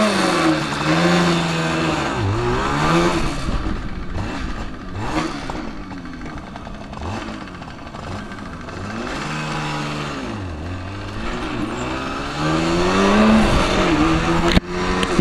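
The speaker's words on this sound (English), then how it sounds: "Let's go ahead and fire it up and take it for a spin." A 1974 Suzuki GT185 two-stroke twin motorcycle runs close by. Its engine revs up and down repeatedly in a wavering, buzzy drone that rises and falls throughout.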